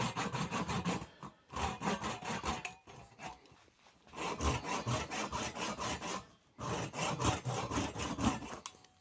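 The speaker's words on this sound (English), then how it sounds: "I'll cut that off first just with the fine saw side of the saw" The fine-toothed side of a hand saw cuts through a small piece of woodturned wood for a gnome's nose, producing close rasping strokes in quick back-and-forth bursts separated by short pauses.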